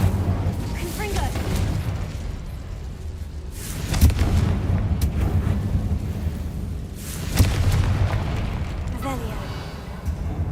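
Blasting spell explosions in the video game Hogwarts Legacy during a fight with spiders: deep booming bursts around the middle and later on, over a rumbling background of combat effects, with a voice talking over it.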